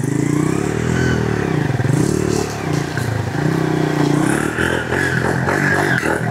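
A motorcycle starts up and strains while pulling an e-rickshaw, its engine revving in rising and falling surges close by, with clattering and scraping mixed in.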